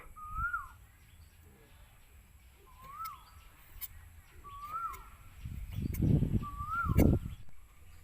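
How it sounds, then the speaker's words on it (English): Birds call in the countryside, a repeated short rising-falling note sounding four times at a steady spacing, moderately distant, with soft rustling and handling noise growing louder toward the end. "Can you hear the sound of bird like this?"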